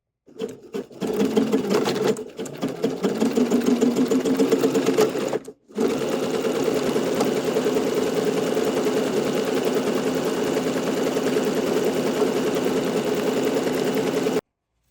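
Sewing machine stitching fabric while gathering it into a ruffle, running in a loud, close, steady whir with a brief stop and restart near the start, then continuous.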